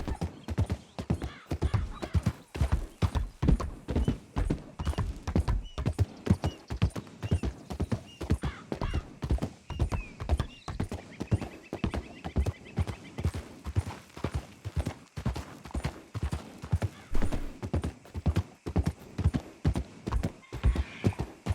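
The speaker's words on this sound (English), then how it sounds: "I don't want to run my horse like full speed ahead all the time" Steady, rapid hoofbeats of a galloping horse in a video game, a continuous rhythmic clip-clop with no talking.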